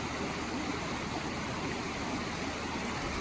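Creek water flowing steadily beside a roadside pull-off in a winter river valley, a continuous broadband rushing and babbling that stays even and moderately close throughout, with no voices.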